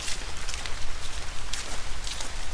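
Rain falls steadily along a wooded nature trail at a preserve, an even close hiss of drops on leaves and ground with slight surges in intensity.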